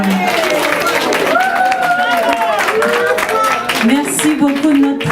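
An audience applauds at the official launch of a women's skills registration campaign held with an Ivorian association. Steady, dense clapping fills the room while voices carry over it.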